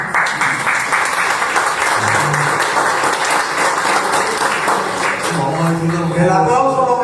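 An audience applauds steadily at a gathering welcoming a newspaper director, with voices talking over the clapping throughout.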